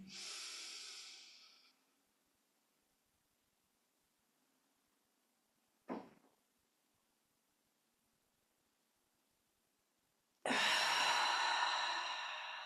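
Slow, deep breath drawn in during guided relaxation, a soft close inhale, then a short sharp sniff in the quiet, then a louder, longer rush of breath.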